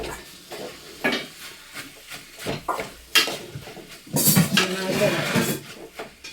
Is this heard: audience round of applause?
no